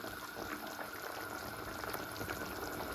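Coconut milk pours into a hot pan and bubbles, a dense close hiss and gurgle of liquid heating, steady throughout with no talking.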